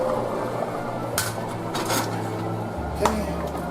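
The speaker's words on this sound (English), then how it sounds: "Okay, give another stir" Red beans and vegetables stirred in a pan on the stove, with a few scraping clinks of a utensil against the pan over a steady low background hum.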